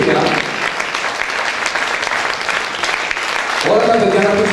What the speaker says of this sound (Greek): Θέλω να σας χειροκροτήσω μαζί με τον κόσμο